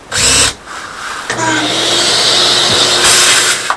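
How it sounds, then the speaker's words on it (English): A power drill bores out a punched mark on a Hubble Optics UL Dobsonian telescope, a short loud burst followed by a longer steady whirring run, close up and with no talk. "And now we'll drill it out."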